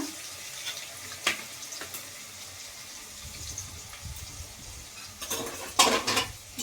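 Chital fish paste being mixed with garlic and ginger paste, soft squelching and mashing in the middle stretch, with scattered clinks of utensils against a bowl before and after.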